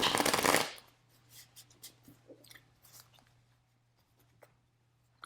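Tarot cards handled during a reading: a brisk burst of shuffling opens, then soft scattered slides, taps and flicks as cards are drawn and laid out, close and quiet over a faint steady hum.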